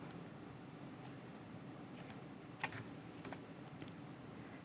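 Text prompt typed on a computer keyboard, soft scattered key clicks with a few sharper taps, faint and close over a quiet hiss.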